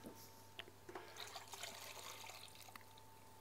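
Liquid being poured into a saucepan of sauce for sole Walewska, a soft continuous watery trickle with faint clinks, close and moderately quiet, no talking.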